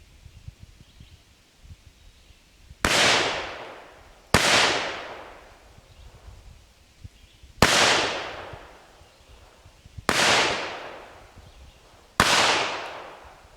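Five sharp, loud shots from a handgun firing hand-loaded X-Treme .38 caliber copper plated bullets ring out a couple of seconds apart, each with a long decaying echo and no talking.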